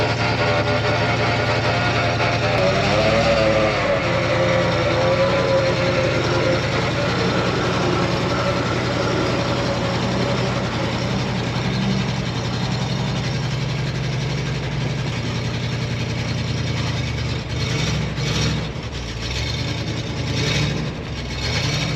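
A barn-find 1960 Ford F600 truck engine labors steadily under a heavy load, a continuous loud low rumble with odd mechanical noises throughout and no talk.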